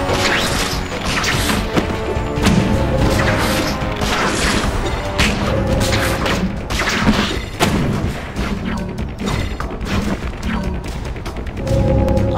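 Chained web attacks strike groups of enemies in the Spider-Man Web of Shadows video game. Dense, loud impacts, thuds and smashes pile up continuously over a busy game soundtrack, with no talking.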